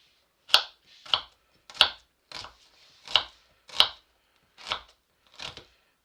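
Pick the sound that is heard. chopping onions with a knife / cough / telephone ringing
chopping onions with a knife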